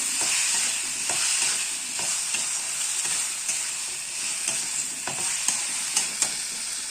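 Potatoes and spices being stirred in a hot pan, a continuous close sizzle of frying with repeated scraping strokes of the spoon at an uneven rhythm.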